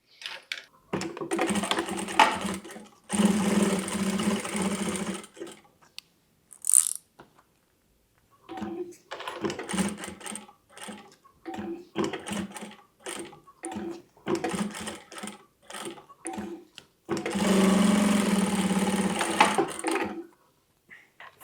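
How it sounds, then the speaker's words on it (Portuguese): A sewing machine stitches a side seam along the bottom of a phone holder made of Montana fabric, running in several sustained bursts with short pauses between them and quiet mechanical clicks in the gaps. "a gente vai passar uma costura lateral aqui na parte de baixo e na outra lateral"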